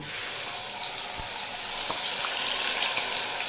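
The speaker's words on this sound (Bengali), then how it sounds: "জারটা ধুয়ে সামান্য জলও এড করে দেবো" Water runs steadily while a jar of ground spice paste is rinsed out into a pan of cauliflower curry, a continuous near gush with a few small clinks and no talk.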